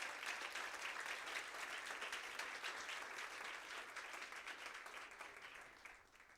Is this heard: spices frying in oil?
no